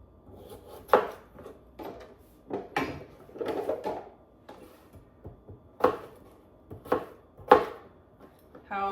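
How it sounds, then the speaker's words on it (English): Knife chopping potatoes into cubes on a cutting board, a series of irregular knocks and thuds, some sharp and some softer, close and clear with no voices. "How big you cube your potatoes is entirely up to you."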